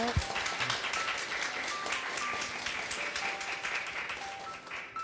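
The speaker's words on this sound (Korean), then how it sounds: "큰 박수로." An indoor church talk-event audience gives a continuous round of applause, a fairly quiet, even patter of many hands with a brief low thump near the start.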